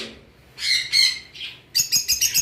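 Lovebirds at a bird shop, including blue Fischer's and albino pairs, give sharp high chirps and squawks, ending in a quick rapid series of close, loud tweets, with no talk.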